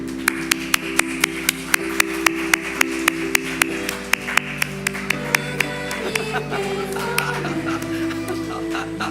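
A church congregation claps in a steady rhythm as children walk out to the middle, sharp regular hand claps over sustained musical tones.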